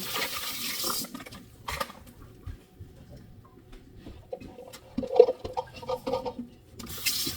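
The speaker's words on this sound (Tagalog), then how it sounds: "Lagyan natin ng tubig." Water poured into a container for washing kangkong leaves, a close splashing gush at the start and again near the end with quieter gurgling and clunks between, no talk.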